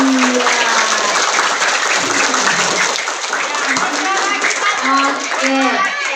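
An audience of children applauds at a primary-school Ramadan religious gathering, a loud, sustained roar of many hands clapping close by, with voices calling out beneath it.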